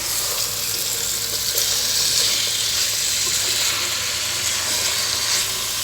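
Restaurant-style chicken chukka sizzles loudly and steadily in a pan as it is stirred, a dense, continuous frying hiss with no voices over it.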